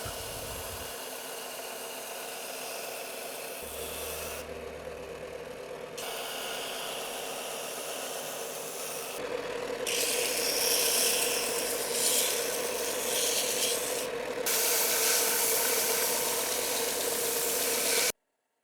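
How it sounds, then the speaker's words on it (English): Wooden kitchen cabinet handle pieces being sanded to final shape with a power sander, a steady loud grinding whir that grows harsher and louder in the second half, broken by brief pauses, with no talking. "Then I sanded the pieces to their final shape."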